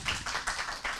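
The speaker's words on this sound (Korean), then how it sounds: "큰 박수 부탁드립니다." Applause for a discussant being introduced at an academic policy-studies conference session, a brief burst of many hands clapping in rippling, uneven waves, fairly close and loud with no talking over it.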